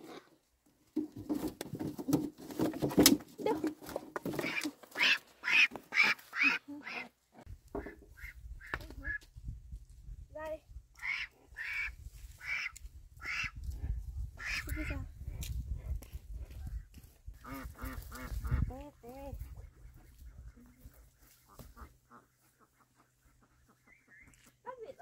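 Ducks quack in repeated bursts on a rainy day around a house, with steady rain patter underneath and a voice speaking at times.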